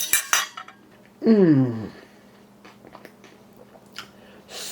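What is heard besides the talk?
cutlery, then chewing meatballs on spaghetti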